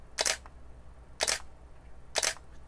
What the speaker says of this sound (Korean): 750D입니다. 셔터 소리 한번 들어볼까요?